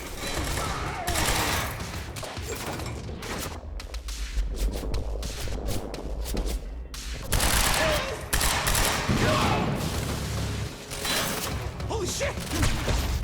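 Heavy gunfire in the video game Quantum Break pours out in dense, rapid bursts with thuds and mechanical clatter, pausing briefly before flaring up again, while a man exclaims over the shooting.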